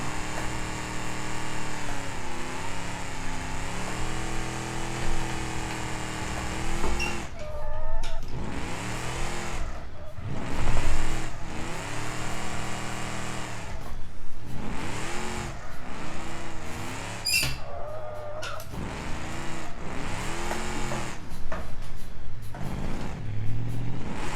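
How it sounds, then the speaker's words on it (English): A car in the driving game BeamNG does a rolling burnout. A loud, steady engine roar with rising and falling revs runs throughout, joined by harsh bursts of what may be tire squeal. "let off the brake a little bit, and you can do a rolling burnout"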